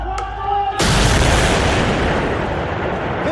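A rocket improvised from a 200-pound aircraft bomb goes off in a sudden loud, deep blast that rolls on as a sustained roar, near a former ISIS-held area of Benghazi, Libya, after a faint tonal hum.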